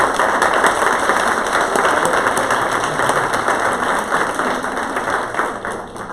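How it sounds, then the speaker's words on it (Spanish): An audience at a parents' committee gathering breaks into loud, dense applause that holds steady throughout, then eases slightly at the end; a faint steady tone hums underneath. "Quiero que les den un aplauso fuertísimo."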